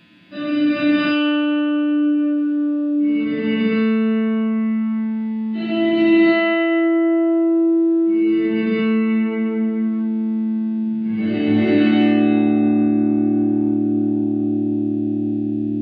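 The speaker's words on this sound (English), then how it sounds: "Reverse mode will suppress the output at first and then build louder as sound is detected" An electric guitar through a Hardwire RV-7 reverb pedal in reverse mode plays a few plucked notes, each followed by a reversed swell that builds up afterward, ending on a long shimmering chord.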